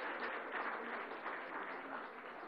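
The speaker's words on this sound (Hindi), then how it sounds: "तालियों के साथ स्वागत कीजिए।" Sustained audience applause welcoming Delhi Chief Minister Arvind Kejriwal and host Rajdeep Sardesai onto the stage at a televised Agenda interview session, a steady, dense wash of many hands clapping, fairly faint and even throughout.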